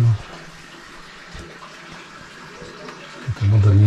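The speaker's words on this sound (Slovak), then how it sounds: "V strede tečie. Vodička tu je. Už v kanáliku betonovom." Water flows steadily through a concrete channel inside a mine, a continuous rushing trickle heard up close, with low rumbling thumps at the start and end.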